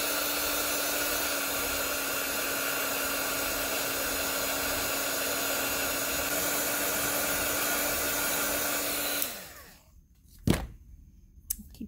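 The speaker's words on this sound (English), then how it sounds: "Let's see if I can shoot it with the heat gun." A heat gun blows steadily onto wet paint on a small gnome figure, a loud continuous whine and airflow that runs for about nine seconds before cutting off, followed by a few light knocks.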